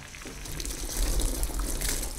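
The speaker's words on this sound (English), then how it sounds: "Stop pouring water on me then" Water poured over a person in a Call of Duty Modern Warfare interrogation scene, a steady close gushing splash that swells slightly midway and runs continuously for the whole stretch.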